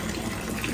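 Hot water runs from a tap into a bathtub in a steady, continuous gush, close and fairly loud, with no talking.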